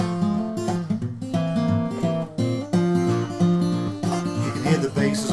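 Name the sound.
acoustic guitar fingerpicking with muted basses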